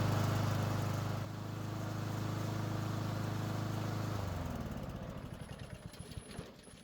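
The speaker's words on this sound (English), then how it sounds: "Let it run to get the engine oil hot." A Troy-Bilt push mower with a Honda engine runs steadily at a steady throttle, then winds down, the firing slowing into separate fading thumps as it shuts off.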